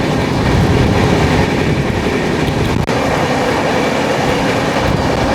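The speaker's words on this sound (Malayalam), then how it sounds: "ഇതാണ് കോയമ്പത്തൂർ ചെന്നൈ വന്ദേ ഭാരതം." A Coimbatore–Chennai Vande Bharat express train passes with a loud, continuous rail rumble and clatter that stays steady and close throughout.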